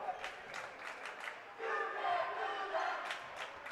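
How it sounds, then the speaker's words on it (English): Spectators at a Standley Lake versus Frederick varsity boys high school basketball game chant in unison, a loud, rhythmic crowd roar echoing through the gym with scattered shouts. "The crowd chanting down the, "You can't do that.""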